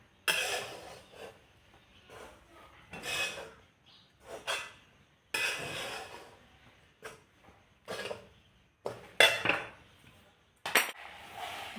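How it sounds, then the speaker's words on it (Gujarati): Ingredients for a village-style Gujarati coconut sweet (kopra pak) being mixed by hand, heard as irregular bursts of utensil scraping and clinking against a metal pot, separated by short quiet gaps. "બરાબર મિક્સ કરવાનું"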